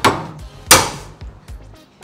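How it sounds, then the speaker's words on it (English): An impact driver works at a seized master cylinder screw, giving two loud, sharp metallic blows followed by several lighter knocks, close and with no talking. "We'll use this impact driver and that'll help break the seal or crack the seal and get the nut out, hopefully."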